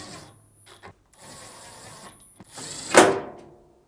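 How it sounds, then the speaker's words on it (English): A power screwdriver whirs in short bursts while driving screws back into a Samsung dryer control panel, with mechanical ratcheting and a louder final burst near the end. "and reinstall the 4 screws."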